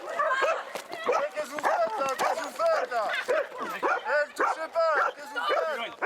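Police dog from a canine brigade barking and yipping repeatedly during a public demonstration, loud and close, with a handler's voice talking over and between the barks.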